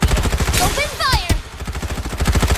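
Video game machine gun fire rattles in rapid continuous bursts, loud and close, with a brief gap in the middle and game voices sounding beneath it.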